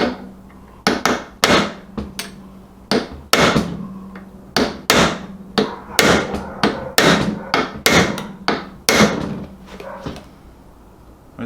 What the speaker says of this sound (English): It's really hard to tell because the impact's bouncing.